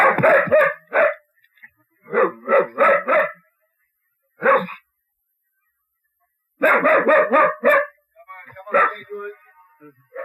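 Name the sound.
dog barking while locked in a car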